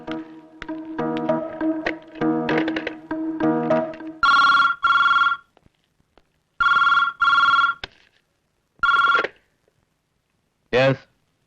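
A telephone rings at night in a home, with several ringing bursts in a steady repeating pattern. Before the ringing, a phone keypad or dial tone sequence sounds. No talk can be heard over the rings.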